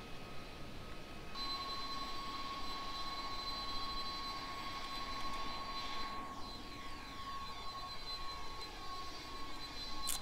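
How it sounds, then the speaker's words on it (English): A DC-10 airliner in a flight simulator at Edinburgh airport: jet engines whine steadily during pushback, with a high tonal whine entering after a second and a broad sustained roar, no talking. "we're going to start our pushback and then we're going to head out and depart from this wonderful airport here at Edinburgh"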